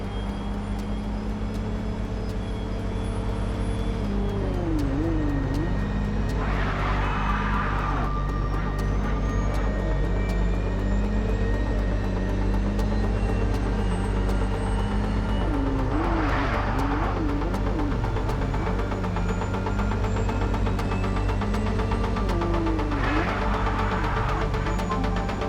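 A car engine in the MindsEye video game hums steadily while driving, a constant low drone with a few swelling bursts of road and tyre noise, heard alone without talk.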